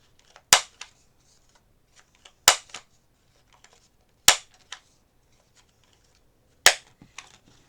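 A corner punch cuts through the corners of watercolour cards in four sharp, loud, close snaps about two seconds apart, each followed by a fainter click, with quiet between and no talking.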